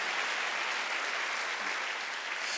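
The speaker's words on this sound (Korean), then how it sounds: "빨리 박수." A church congregation at a Korean worship service claps together in a sustained, dense round of applause, loud and steady throughout, with no spoken voices.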